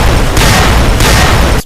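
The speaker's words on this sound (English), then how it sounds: "I'm pretty sure all three of them just threw dynamite at me" Dynamite explosions in the video game Fallout: New Vegas, a loud, saturated, continuous blast of booming noise that stays overwhelming for its whole short span and then cuts off.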